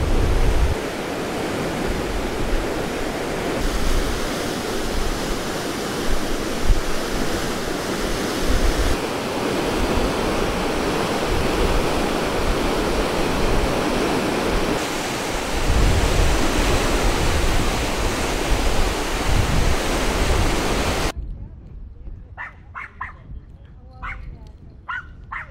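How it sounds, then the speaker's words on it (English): Water rushes out of a canal lock through wide-open paddles, a loud continuous roaring surge that fills the clip before dropping away abruptly near the end to quieter background with faint voices. "That's the water being let out."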